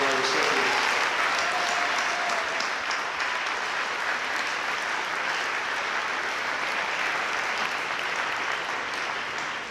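A large audience at a high school senior awards ceremony applauds its award and scholarship recipients, a dense, steady wash of many hands clapping that holds at full loudness for nearly ten seconds before tapering slightly.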